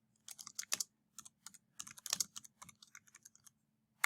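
Crisp, close clicks of someone typing code on a computer keyboard, coming in irregular quick bursts with short pauses, alone in a quiet room.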